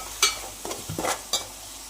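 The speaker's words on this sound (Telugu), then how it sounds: "టమాటో ప్యూరీ పచ్చివాసన పోయే వరకు వేయించుకోవాలి." Tomato puree made from two blended tomatoes fries in a pan for a mutton gravy curry, with several distinct scraping stirs of a spoon over a soft, steady sizzle.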